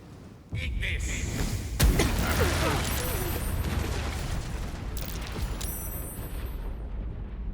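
A fire spell erupts in Baldur's Gate III with a sudden whooshing blast, then a sustained crackling, roaring burn with sharp bursts and chimes layered over it.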